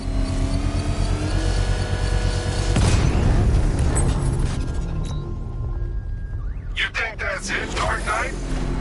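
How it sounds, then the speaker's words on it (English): A controlled bomb explosion, set off with a power winch, booms in a Batman video game. A loud, broad blast swells, then fades into rumbling and mechanical effects, with voices talking over it. "I can use the power winch to trigger a controlled explosion."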